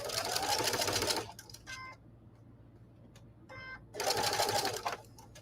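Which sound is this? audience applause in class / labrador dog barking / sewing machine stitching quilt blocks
sewing machine stitching quilt blocks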